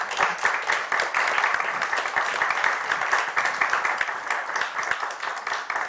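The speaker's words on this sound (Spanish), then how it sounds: "un aplauso para ambos" Sustained applause from an audience in a university auditorium after an academic talk, a thick, even wash of many clapping hands held at steady volume throughout.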